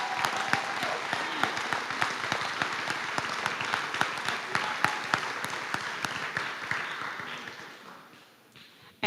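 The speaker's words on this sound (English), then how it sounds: "So please give them a round of applause." A crowd applauds steadily for several seconds at a school board meeting, dense clapping that fades out toward the end.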